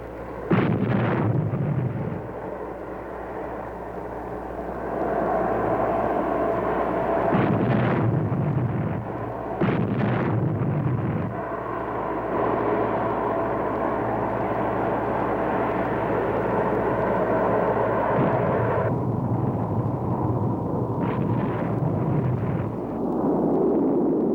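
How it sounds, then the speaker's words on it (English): Cargo planes landing amid heavy enemy artillery fire during the Vietnam War, with a steady aircraft engine roar throughout and repeated booming impacts and blasts at intervals. "Heavy enemy artillery fire makes every landing a game of chance, and some of the planes don't make it."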